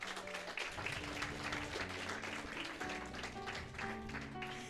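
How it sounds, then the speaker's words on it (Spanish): A church congregation applauds during a sermon, sustained clapping under sustained musical tones from instruments, fairly quiet and continuous for several seconds. "Dele un aplauso al Señor."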